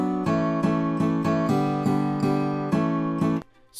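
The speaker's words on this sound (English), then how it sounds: "And the guitar 2 sounds like this." Second guitar track from an FL Studio mixing demo plays a steady run of about nine evenly spaced plucked, sustained notes with bright overtones, alone and clear, before cutting off abruptly after roughly three and a half seconds.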